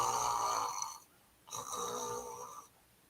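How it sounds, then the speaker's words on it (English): Loud, close snoring in two long rasping breaths separated by a short pause, with no talking over it. "I'm snoring like a baby right now."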